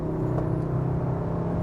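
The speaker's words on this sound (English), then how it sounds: "You hear that turbo whine." Steady, near engine drone with a faint high whir from a Cupra Formentor accelerating, heard from inside the SUV as a continuous hum without speech.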